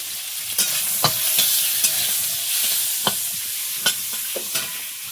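Chopped onion frying in oil with potatoes, a steady bright sizzle with scattered clinks and scrapes of a stirring utensil against the pan, close and alone.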